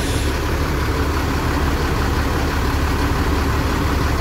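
A Putra Pelangi bus engine idles smoothly and loudly up close, a steady, even drone that holds unbroken for the full four seconds with no voices.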